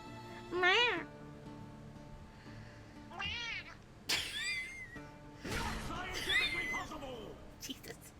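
A cat meows in a video game, sounding out several times in rising and falling calls of different lengths, with game sounds and a voice talking between them.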